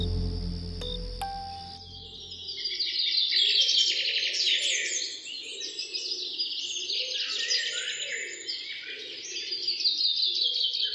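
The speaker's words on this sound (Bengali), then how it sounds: "পরদিন সকালে পাখির ডাকে আমার ঘুম ভাঙল।" Many birds chirp and twitter continuously in the morning, close by and fairly loud, forming a dense chorus after a brief low hum at the start.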